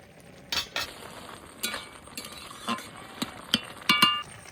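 Metal clinks and scrapes from a lid and utensils at a cooking pot of prawn and kochu loti curry, several sharp clatters spread out over a quiet kitchen background, ending in a brighter ringing clink.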